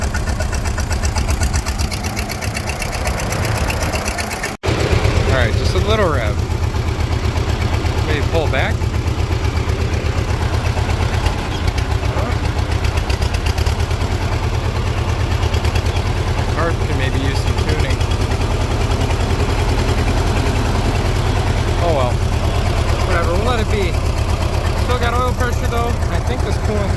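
A Farmall H tractor engine runs steadily at idle after a brief rev, its low chugging rumble loud and continuous throughout, with occasional voices talking over it.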